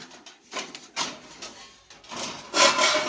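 Clunky rubbing and clicking of locks being undone and the lid of a Coleman camp oven being opened, a few close handling knocks and scrapes in sequence.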